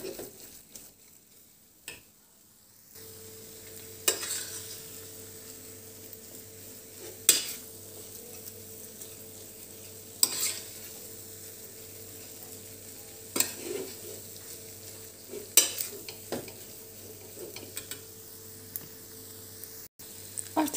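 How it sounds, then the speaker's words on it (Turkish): Choux pastry dough is stirred continuously in a pot, with a faint low hum under scattered soft scrapes and light clinks of the utensil against the pot, and no voices. "Sürekli böyle karıştıra karıştıra 3-4 dakika kadar hamur bütünleşmiş bir hamur olana kadar karıştıracağız."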